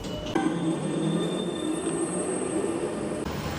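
Steady rumble and rolling noise of a moving Paris train carriage, with a sudden shift at the start as the ride continues.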